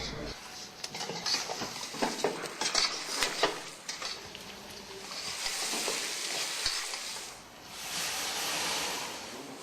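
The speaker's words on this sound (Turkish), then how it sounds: "kalın doğranmış soğanı ilave edip e, yıkanmış e, kuzu incik etlerimizi koyup karıştırarak e, kavururuz" Thick-cut onions and washed lamb shank frying in a pot while being stirred, with steady sizzling, scraping and clinks of utensil against metal; a voice talks over parts of it.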